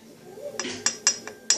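A soap bottle clinks against a bowl holding water, giving four or five quick, light glassy taps in close succession over a faint background hiss.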